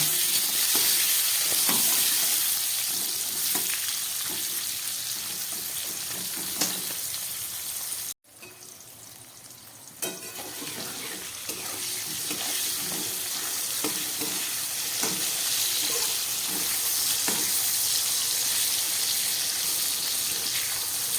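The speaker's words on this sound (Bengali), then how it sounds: "নুন হলুদ দিয়ে খুব ভালো করে আমি শিমটাকেও ভেজে নেব।" Flat beans fry in a pan with salt and turmeric, a steady broadband sizzle with occasional stirring scrapes, briefly cut off around the middle before the frying resumes.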